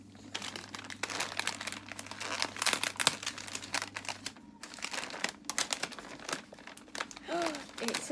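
A wrapped item from a Little Mermaid mystery box is unwrapped, giving loud, close crinkling and tearing of paper in irregular bursts, with brief voices in the background.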